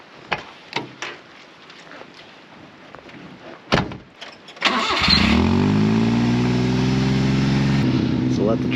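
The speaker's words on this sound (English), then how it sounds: "Let the truck warm up" A kei mini truck with 4x4 is parked in the woods during a heavy rainstorm. A door thuds and there are scattered knocks, then the small engine cranks and catches at about five seconds and settles into a steady, loud idle as it warms up.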